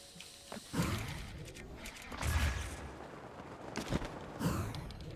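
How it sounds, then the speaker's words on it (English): A wind bomb goes off during a video game speedrun, heard as three loud, rumbling whooshing blasts spaced a couple of seconds apart over a steady background of game noise. "Looks like we're gonna go for a wind bomb instead."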